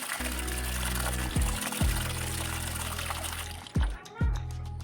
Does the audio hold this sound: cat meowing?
no